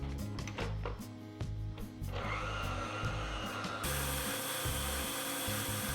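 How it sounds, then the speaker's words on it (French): An electric mixer whips 500 ml of liquid cream into whipped cream, a steady motor whir that turns brighter and denser partway through as the cream thickens, continuous and close throughout. "on a 500 ml et on monte ça en chantilly tout simplement"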